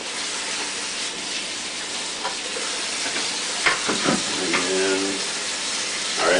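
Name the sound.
rinsing a bucket lid with water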